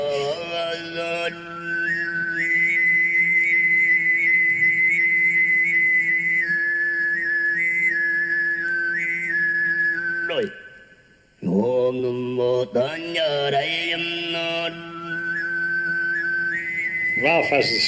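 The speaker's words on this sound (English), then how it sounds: "As they're singing, there's a kind of a whistle that develops on top of the singing." Tuvan throat singing: a droning low voice with a bright, whistle-like overtone melody floating above, broken by a brief breath before resuming.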